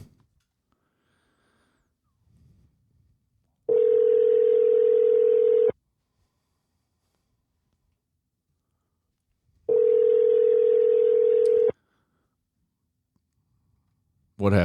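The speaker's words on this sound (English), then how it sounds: "And we're ringing." Ringback tone of an outgoing telephone call: two long steady rings a few seconds apart, each about two seconds, with near silence between them and faint background sounds.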